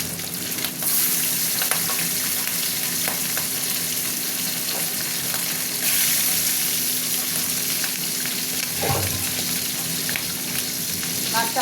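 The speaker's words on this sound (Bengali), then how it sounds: "এবার মাছগুলো দেবো। পাবদা মাছ এরকম ফাটে জানতাম না তো।" Pabda fish fry in plenty of hot oil, a steady busy sizzle with scattered sharp pops and spatters throughout, close and continuous.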